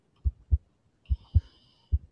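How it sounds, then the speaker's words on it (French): A heartbeat sound effect thumps in deep, close double beats, evenly spaced pairs of muffled low thuds, with a faint high tone drifting in behind the later beats. "battement de cœur"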